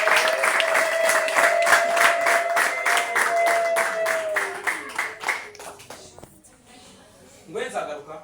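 A church congregation claps in a steady, even rhythm for about five seconds, with a sustained voice running beneath it before the clapping fades into scattered shuffling and talk.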